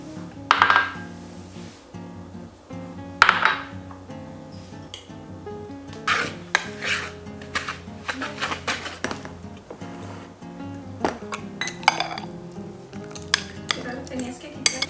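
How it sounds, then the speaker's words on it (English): Wet ingredients for a chocolate pie filling being mixed in a home kitchen, with irregular clinks and scrapes of a utensil against a bowl and some clattering dishes throughout. "the wet ingredients. And I'm just gonna quickly mix it up"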